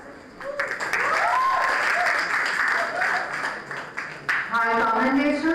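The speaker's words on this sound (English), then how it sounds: "Shall we clap?" School audience clapping at a student award ceremony, loud sustained applause from a crowd with voices and a tonal sound rising near the end.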